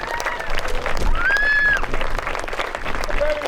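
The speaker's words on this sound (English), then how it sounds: "So give them a big round of applause, please." A crowd at a medieval fort event applauds the clan and volunteers, a dense continuous clatter of clapping, with a whistle and voices rising above it.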